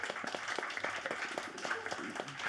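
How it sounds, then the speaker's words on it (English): Scattered, moderately faint clapping from an audience at a Bass Coast festival panel, honoring the harm reduction team; individual claps are distinct and uneven rather than a full roar. "So maybe a round of applause for them."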